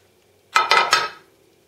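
A plate handled and set down in a kitchen beside a Rollie vertical egg cooker, giving three quick close ceramic clatters in a short burst, loud against near silence.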